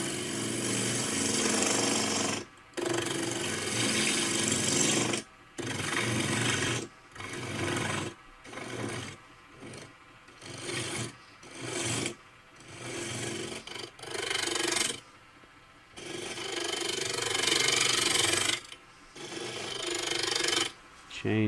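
A gavel spins on a wood lathe as a tool cuts straight in to part off its tenon, giving loud rasping, scraping cuts in repeated bursts of several seconds, broken by short pauses.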